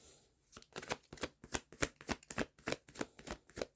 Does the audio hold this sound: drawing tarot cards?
yes